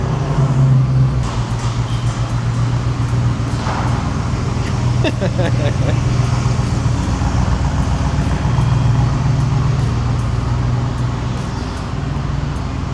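A heavily squatted 700-horsepower shop truck rumbles as it pulls out, its low engine drone steady and close throughout, with a few brief clanks midway and voices talking over it.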